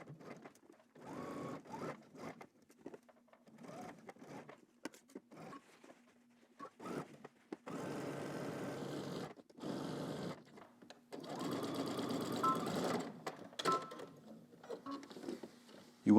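A sewing machine stitches a knit seam for a Simplicity S9758 garment, running in several short and longer bursts of rapid mechanical whirring with quiet pauses between them, close and fairly soft.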